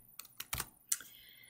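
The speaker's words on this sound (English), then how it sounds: "So I'm going to start typing in that formula I see there." A formula is typed into an Excel spreadsheet on a computer keyboard: four or five soft, close key clicks in a quick, uneven run, alone and faint.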